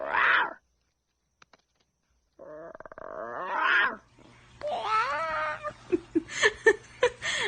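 A cat gives a few short meows and yowls between quieter gaps, with a drawn-out wavering cry and a run of quick, sharp calls near the end, fairly close and clear.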